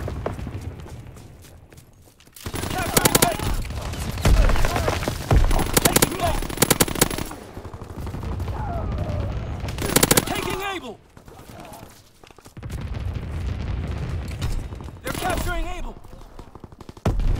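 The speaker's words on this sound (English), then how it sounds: "Anti-aircraft bursts commence." Anti-aircraft and small-arms fire rattle through a Call of Duty WWII Domination match on the 1944 Shipment map. Loud, dense bursts come in several waves with brief lulls, and game voices sound between them.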